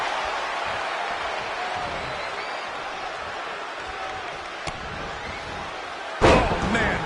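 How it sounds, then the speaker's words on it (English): A scoop slam in WWE 2K20 crashes down as one sharp, loud impact near the end, followed by a brief ringing thud over a steady crowd murmur. "Scoop slam."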